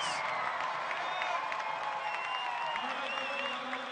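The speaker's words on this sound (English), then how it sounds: "getting a round of applause from the fans" Hockey arena fans at an ECHL game between the Kalamazoo Wings and Bloomington Bison applaud and cheer, a broad crowd wash that fills the arena steadily, with a commentator's voice over it.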